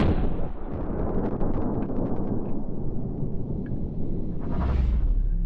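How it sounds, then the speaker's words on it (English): An RPG-7 rocket launcher fires outdoors with a deep, booming blast that rolls on as a long rumble. A few faint crackles follow, then a second low thump swells near the end. "Firing the RPG-7 in 3, 2, 1."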